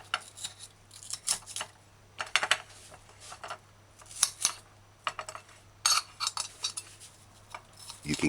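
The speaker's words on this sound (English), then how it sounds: "Peel the onion and dice onion fine." A knife chops an onion finely on a cutting board in a home kitchen, sounding as quick, sharp, irregular taps and clicks that come in short bursts, fairly close and quiet.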